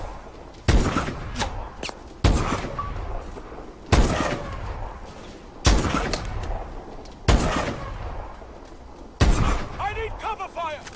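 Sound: gunfire in video game Call of Duty: Advanced Warfare

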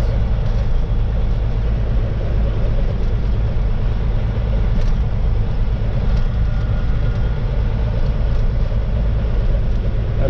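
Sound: cattle truck crawling slowly down a gravel road

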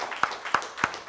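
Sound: church congregation hand clapping

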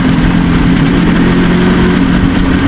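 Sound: motorcycle engine running

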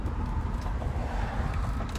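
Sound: traffic jam street noise

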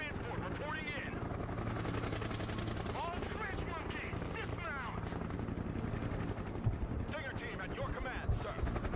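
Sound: helicopters and gunfire in the video game Broken Arrow

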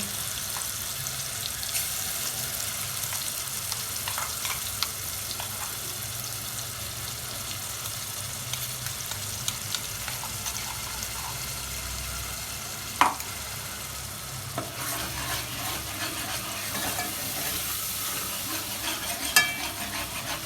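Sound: ground masala paste frying and being stirred in pan

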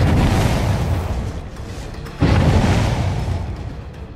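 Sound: grenade explosion in video game Dead by Daylight

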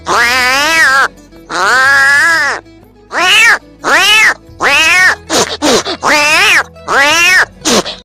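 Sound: boy imitating the sound of cats fighting

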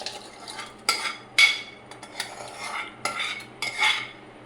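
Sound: ladling cooked food into a dish

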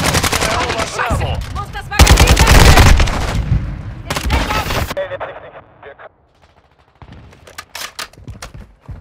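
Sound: gunfire in the video game Call of Duty

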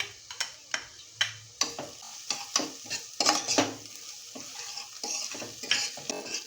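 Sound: sautéing onion in a pan

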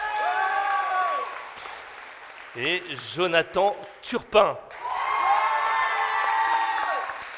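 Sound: audience applause and cheering in an amphitheatre

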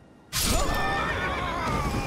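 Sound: horse neighing in video game Elden Ring

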